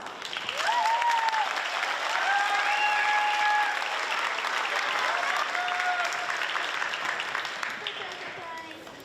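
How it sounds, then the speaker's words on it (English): A graduation assembly audience breaks into sustained applause, a dense wash of clapping that swells, holds steady for several seconds and gradually tapers, with faint voices mixed in. "Give a quick pause with a round of applause."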